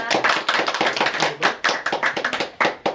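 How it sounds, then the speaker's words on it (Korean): A small group claps their hands, a brisk scattered applause that continues steadily for a few seconds, close by. "박수. 박수."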